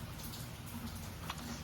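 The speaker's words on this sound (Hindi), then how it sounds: "अब बारिश हो रही है जैसे कि देख रहे हैं" Rain falling on rooftops in a residential setting, a soft, steady hiss with faint scattered drips, quiet and even throughout a short stretch with no talking.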